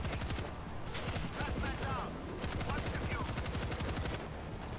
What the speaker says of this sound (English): At least we're getting some use out of this machine gun turret back here.